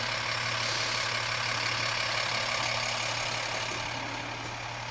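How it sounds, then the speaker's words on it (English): A garbage truck idles on a residential street on collection day, a steady low diesel drone with a faint mechanical hum, fairly close and unbroken, easing slightly quieter near the end. "Here comes the first truck. That's the garbage cart"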